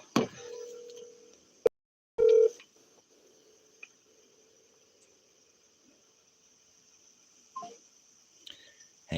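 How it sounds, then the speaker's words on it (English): A phone call ends abruptly in a few short electronic disconnect tones at a steady pitch, followed by a long faint line hiss and a couple of small clicks, heard close through the handset. "The phone's just hanging up."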